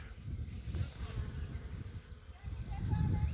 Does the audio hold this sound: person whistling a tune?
no